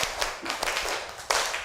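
Tepuk semangat spirit clap from a standing group: sharp claps repeat in a quick rhythm, with a louder burst near the end, close and fairly quiet in a room.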